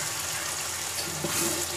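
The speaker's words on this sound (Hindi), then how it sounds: "अब हम इसमें पानी डालेंगे" Water pouring steadily into a pot of chicken tikka gravy with spices cooked in ghee, a continuous close splashing rush with a slight change in tone partway through.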